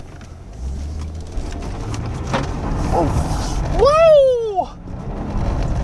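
A Maserati Ghibli twin-turbo engine revs hard in sport mode with traction control off, building to a loud, rising-and-falling tire squeal during a donut; a voice whoops and talks over the low engine drone.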